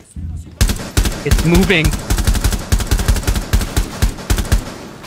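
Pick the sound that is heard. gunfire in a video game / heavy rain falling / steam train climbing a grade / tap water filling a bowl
gunfire in a video game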